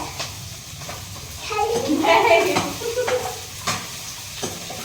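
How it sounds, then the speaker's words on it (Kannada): Onions fry in a home kitchen pan, with faint sizzling and a few stirring scrapes and clinks, partly under people chatting, including a voice. "ಈರುಳ್ಳಿ ಹಾಕ್ತಿದ್ದೀವಿ ಗೈಸ್"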